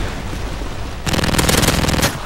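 Golden PP90 submachine gun in Modern Warfare 3 firing a rapid, evenly spaced burst after a second of ambient game noise, sharp close shots continuing for about a second.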